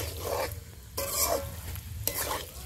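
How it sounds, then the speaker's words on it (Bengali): Chicken pieces being stirred with spices in a pan for a tomato chicken curry, a soft scraping and sizzling texture that swells in two brief bursts, close and moderately loud, with no voices. "মাংসটা একটু মশলার সাথে নেড়ে নিয়ে এবার একটু জল দিয়ে দিচ্ছি।"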